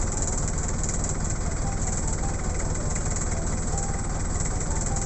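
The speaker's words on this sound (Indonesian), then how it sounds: "Kalau tanda-tanda mesin yang sudah baik itu bunyinya langsam ya." Engine of a Chevrolet LUV car idling smoothly after warm-up, a steady, even low rumble that holds constant throughout at moderate level, with no revving or changes in pace.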